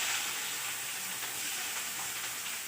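Onion added to a hot spice mix in oil for chicken curry gives a loud, steady, close sizzle, a continuous bright hiss without pauses.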